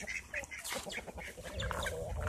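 Backyard hens clucking and chattering nearby, several birds overlapping in short uneven bursts with a lower rustling rise toward the end.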